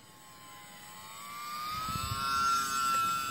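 An E-flite J-3 Cub UMX RC plane makes a slow low pass, a faint thin electric whine that climbs in pitch and swells gently as it draws near over quiet outdoor air.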